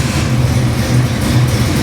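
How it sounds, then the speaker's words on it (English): A 383 Chevy stroker small-block crate engine, built for a 1972 Corvette, rumbles at a steady idle with a deep, even low-frequency throb, close and loud, with no talk. "I'm going to fire this up for you."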